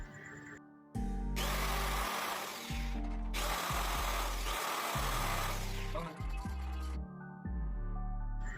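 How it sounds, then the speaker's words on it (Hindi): A power drill bores holes into a PVC board plate for casing and capping wiring, with loud whirring bursts broken by short pauses and clicks from the tool. "कुछ इस तरीके से मार्क करके ड्रिल कर लेंगे।"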